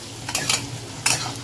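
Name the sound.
frying pointed gourd with onion in a pan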